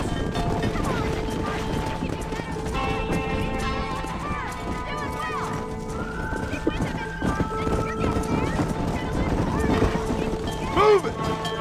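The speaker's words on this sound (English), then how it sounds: "Quick, control that horse, will ya?" Horse hooves clip-clop at a gallop in Red Dead Redemption beneath loud shouting voices and a busy game soundtrack, with a horse whinnying briefly near the end.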